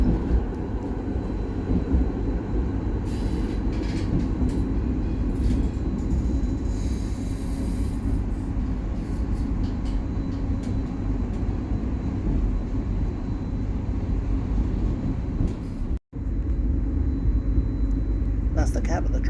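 A tram stands at West Croydon tram stop in London, a steady loud low rumble and hum of rail vehicle running gear with faint wheel squeal, heard close by under continuous ambient noise.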